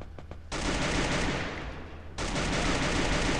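Loud, dense automatic gunfire rattles in the Free Fire battle royale video game. A few separate shots come first, then a long continuous burst that swells again near the end.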